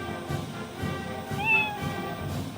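A cat in GTA San Andreas gives one drawn-out meow near the middle, over a faint, busy game background.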